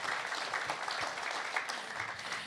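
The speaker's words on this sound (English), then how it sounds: "Can we give them a round of applause for doing this today?" A crowd claps steadily at a panel discussion about coming of age in WWII concentration camps. The applause is even and fairly distant, with no voices over it.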